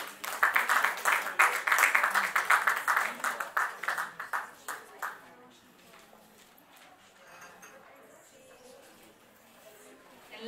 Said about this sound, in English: Let's give a round of applause to Dr. Ashok Philip.